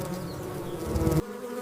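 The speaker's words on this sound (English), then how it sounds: "honeybees travel from flower to flower," Honeybees buzz among flowers, a close, dense droning hum that holds steady for over a second and then cuts off abruptly, with no voices.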